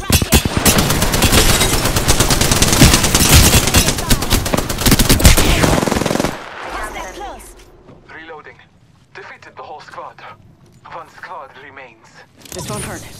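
Sustained automatic gunfire in Apex Legends rattles loudly and continuously for several seconds, then gives way to sparse shots, game effects and voice callouts.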